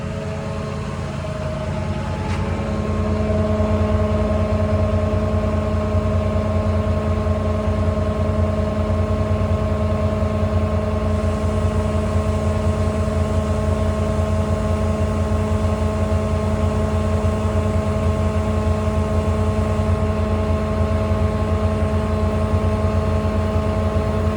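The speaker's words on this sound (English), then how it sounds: "That'll start your compressor up." Onboard air compressor on a 2008 Ford F750 mechanics truck with a Cat C7 engine, starting up and then running loud and steady with a constant mechanical drone and tonal hum, close by, with no voices.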